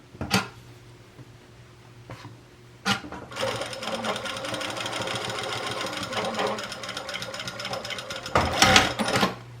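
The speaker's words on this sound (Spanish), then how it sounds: "Cuando pasen sobre la tira, traten de rematarla un poquitito para darle más fuerza a la costura." A sewing machine stitches over the strap of a fabric fanny pack, backstitching to reinforce it. A couple of short bursts lead into a long, steady, close mechanical whir, ending with a louder rattling run.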